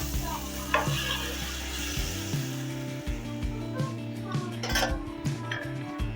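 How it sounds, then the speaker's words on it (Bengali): Boiled dal is poured into a pan of cooking tomatoes, bringing a steady sizzle and bubbling with scraping stirs and occasional pot clinks; a low continuous hum runs underneath and no one speaks. "এবার আমি সিদ্ধ করে রাখা ডালটা ঢেলে দিচ্ছি।"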